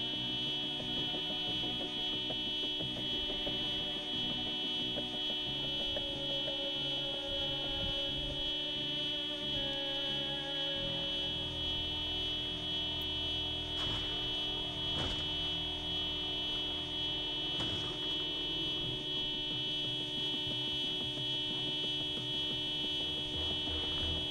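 A car alarm going off on a vehicle in the Project Zomboid video game sounds as a continuous, steady electronic tone that never lets up, with no talking over it.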